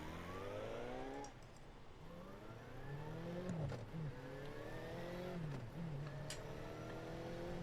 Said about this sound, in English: Vroom, vroom, motorcycle noises.